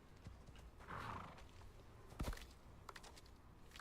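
A horse in the video game Icarus gives a brief whinny, followed by a sharp hoof clop and lighter clip-clop taps amid low game ambience, with no talking.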